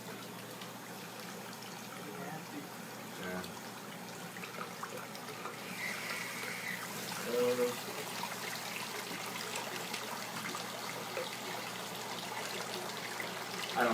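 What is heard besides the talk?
water running through a float tent to flush it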